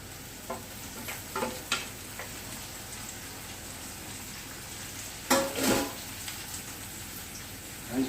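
Pork belly frying in a pan gives a soft, steady sizzle with occasional spatters and stirring scrapes, including one louder burst of crackling near the end.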